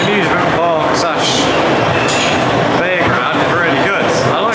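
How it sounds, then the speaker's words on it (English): A ghost train dark ride at a fairground-style amusement park rumbles continuously with rattling, clacking cars, loud and close, with spooky effects and voices mixed in throughout. "I love a good ghost train."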